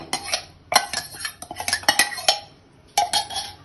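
A utensil stirs yellow moong lentils into a boiling pot of Tirunelveli sodhi kulambu, giving repeated sharp metallic clinks and scrapes in quick bursts with short pauses between.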